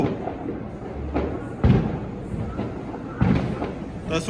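Firecrackers burst outdoors during Diwali, two separate sharp thuds about a second and a half apart against a background of murmuring voices and faint crackle.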